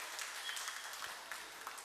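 Audience at a Tamil astrology seminar gives a steady round of applause, a dense continuous patter of many hands clapping at moderate distance, lasting just under two seconds.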